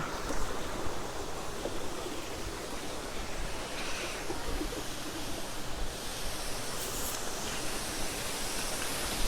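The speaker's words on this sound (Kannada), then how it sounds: "ಇಲ್ಲೊಂದು ಫಾಲ್ಸ್ ಇದೆ ತೋರಿಸ್ತೀನಿ ಬನ್ನಿ ಹೆಂಗಿದೆ ಅಂತ" Waterfall in Vietnam roars as a steady, broadband rush of falling water, continuous and fairly loud without pause, with no voices over it.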